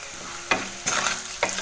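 Spicy chili masala fries with onions in a pan over a low gas flame, a loud hissing sizzle that surges with each stir of the spoon, three bursts in quick succession.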